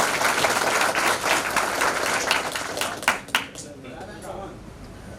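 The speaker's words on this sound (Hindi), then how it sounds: "तालियां जोरदार बजाय करिए," Audience applause at an employees' association election meeting: brisk, loud clapping for about three seconds, then a few last claps and a quieter hall with voices talking.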